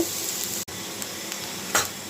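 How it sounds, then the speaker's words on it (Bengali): Onions with green chillies frying lightly in oil in a home kitchen, a steady close sizzle broken by one brief utensil tap and a short stir scrape near the end, no voices. "পেঁয়াজটা আমি হালকা একটু ভেজে নেব"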